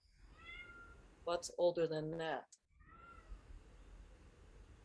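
A kitten meowing from another room, a few thin mews spaced out before and after a short stretch of nearby speech, faint against quiet background hiss.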